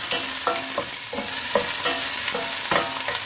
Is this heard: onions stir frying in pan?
yes